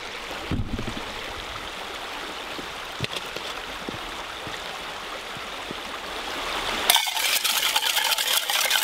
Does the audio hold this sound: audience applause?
no